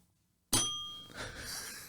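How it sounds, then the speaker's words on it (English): A bell rings once, sharp and bright after a moment of silence, its metallic shimmer lingering and fading over the next second. "I'm gonna be a menace with that bell."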